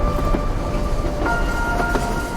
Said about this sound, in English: into a large and beautiful diesel or Tesla locomotive